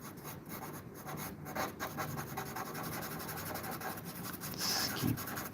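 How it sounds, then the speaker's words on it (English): Pencil or pen scratching across paper in short repeated strokes, a close, dry rhythmic scribbling that continues steadily with small pauses and no speech. "let's keep drawing"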